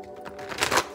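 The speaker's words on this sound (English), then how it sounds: "Let's give a few more shuffles." Tarot cards are shuffled in a quick, papery riffle that builds to a louder flurry of soft slaps and rustles, close by and alone.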